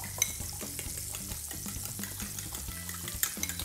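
Melted butter sizzling and crackling steadily in a frying pan on lowered heat while an omelette is being made, a dense continuous hiss close up.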